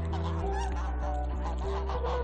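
Geese honking close by, a run of repeated loud, nasal honks from a flock of domestic geese, steady and rhythmic with no talk over them.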